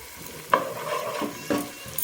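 Chopped onions and spring onion whites sizzle in a pan as a soft, steady frying hiss. A few stirring scrapes come at intervals.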